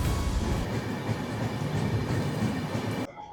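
Howrah–Haridwar Kumbh Express train running at speed, a steady loud rumble of wheels and carriages with a continuous broadband roar, cutting off abruptly near the end.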